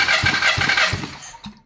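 A 2014 Volkswagen Golf 7 with a 1.2-litre CJZA engine cranks over on the starter during a cold compression test, giving a rhythmic chugging of about four even compression strokes before cutting off.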